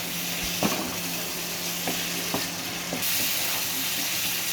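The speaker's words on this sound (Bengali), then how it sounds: "কষানো মশলার সাথে টমেটোগুলো ভালো করে মিশিয়ে নেব।" Tomatoes being stirred into fried spice paste for a Bengali puti fish curry, a steady close sizzle with a few soft spoon scrapes and clacks against the pan, no talk.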